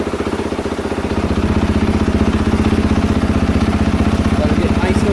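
A KTM 450SXF motorcycle engine idles steadily through a warm-up heat cycle, its rapid even thump close and loud with a faint mechanical clatter, the pace creeping up slightly as it runs.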